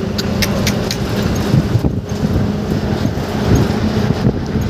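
Kerala bus driving fast on a hill route, its engine and road noise droning steadily from inside the cabin, with faint rattles throughout.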